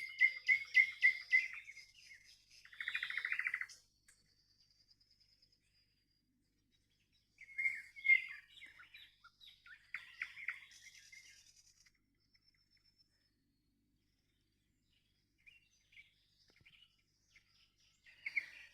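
A nightingale singing at five in the morning in early June, bright clear phrases in short bursts separated by long silences, moderately close and alone.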